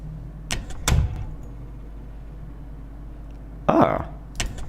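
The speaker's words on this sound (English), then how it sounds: "Let's listen to door close." A door being closed, recorded as a game sound effect: a few close, sharp knocks and thuds separated by quiet gaps, with one fuller clunk near the end.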